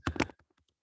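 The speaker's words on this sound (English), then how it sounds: "I'm typing something in the chat here." Fingers tap briefly on a computer keyboard during an online discussion, a quick cluster of close, soft keystrokes followed by a few fainter isolated taps.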